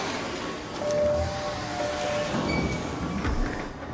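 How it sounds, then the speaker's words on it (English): A train runs steadily past, a continuous rumbling, clattering roar with faint tonal squeals, heard alone without talk. "Sorry, I couldn't hear you over the train."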